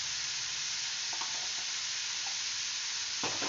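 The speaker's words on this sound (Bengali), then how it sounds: "আনারসগুলোকে হালকা একটু ভাজছি।" Pineapple pieces fry lightly in a pan for a pineapple pickle with a pinch of turmeric, giving a steady, close sizzle throughout with a couple of soft stirring knocks.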